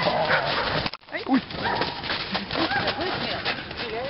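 A dog at a ZKS protection-dog training session, giving whines and yips close by amid steady background noise while people talk.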